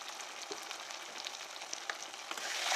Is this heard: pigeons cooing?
no